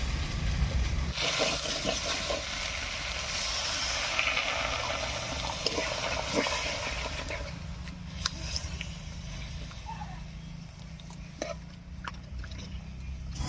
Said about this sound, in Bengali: বেশ কিছুক্ষণ রান্না হয়ে গেছে এবার একটু জল দেবো